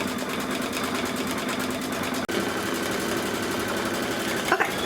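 A Kimberbell embroidery machine stitches the brown tree trunk section of a design, running in a steady, fast mechanical whir with rapid needle rhythm, close and continuous with one brief pause in the middle.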